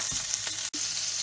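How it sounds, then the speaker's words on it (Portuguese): Butter sizzling in a pan while cooking rice with broccoli and garlic, a steady close hiss of frying with a brief break in the middle. "Na mesma panela eu vou vir com uma colher de sobremesa de manteiga."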